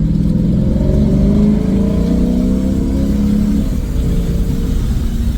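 A loud car with an Apex'i non-resonated aftermarket exhaust revs hard through a sustained pull, its deep exhaust roar rising and holding steady before easing slightly near the end.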